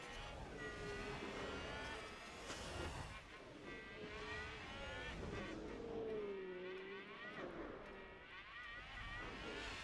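Formula 1 race cars overtaking in F1 Manager 22, their high engine whines rising and falling in pitch as they pass, steady and fairly close throughout.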